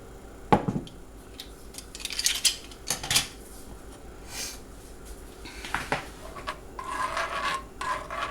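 A measuring spoon scrapes and clinks against a pot while a tablespoon of herbal ointment mixture is added, giving a few sharp metallic taps and rasping scrapes over a quiet room, with a softer rustling stretch near the end.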